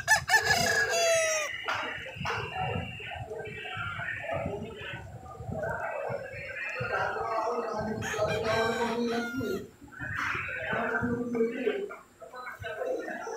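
Gamecock roosters spar at a small backyard poultry farm, one loud crow at the start followed by repeated clucking and squawking calls, close and busy throughout with brief pauses.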